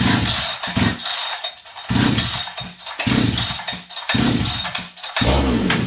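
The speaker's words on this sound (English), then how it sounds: "Now this saw's starting to run really good" A Farmertec 288 chainsaw, just fixed after an ignition repair, runs loud and close, its engine rising and falling in repeated revving bursts about once a second.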